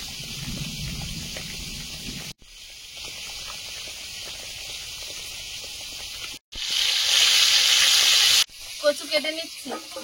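Fish frying in hot oil in a home kitchen, a steady broadband sizzle that holds for several seconds, swells louder toward the middle, and is briefly cut off in places, with faint voices in the background.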